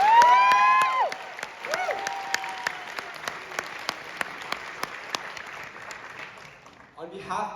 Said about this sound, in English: Can I get a big round of applause for all our graduates for making this far?